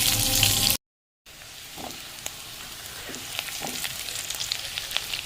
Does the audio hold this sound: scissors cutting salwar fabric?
no